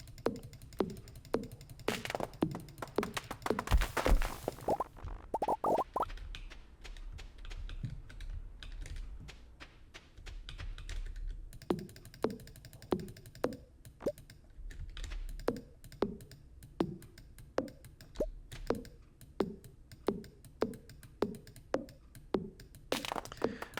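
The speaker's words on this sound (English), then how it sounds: "muffle the sound of my mouse clicking" Computer mouse clicks while playing Stardew Valley come as a steady series of sharp, close taps, denser and busier at first, then settling into an even rhythm over a faint low hum, with no talk.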